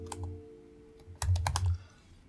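Close, crisp keystrokes on a computer keyboard as a sudo command is entered, a few scattered taps followed by a denser quick burst, with no speech.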